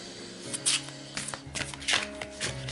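Tarot cards are shuffled by hand for a love reading, with a few quick riffling bursts and soft papery slaps close up, and no talking.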